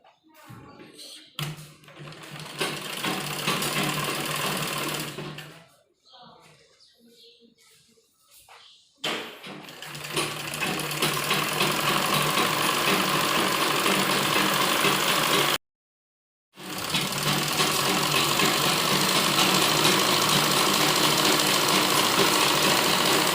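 A sewing machine stitches the folded hem of a pair of men's underwear, running loud and close in long continuous stretches broken by a brief pause and a short gap, with a constant mechanical rattle.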